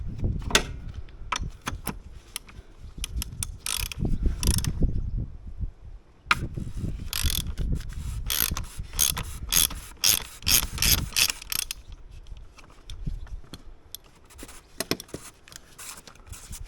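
A ratchet with a 27mm socket loosens the oil filter housing on a BMW 4 Series, rapid clicking pawl bursts in repeated runs, close and fairly loud, with no talking.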